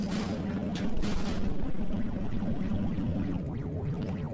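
Tank cannon fire in the video game Hills Of Steel, dense booming shots and rumbling blasts layered over a steady low engine drone, loud and close with scattered impacts toward the end.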